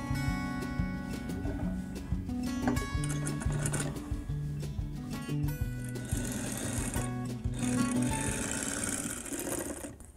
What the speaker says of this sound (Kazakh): тағы бір рет тігіп шығамыз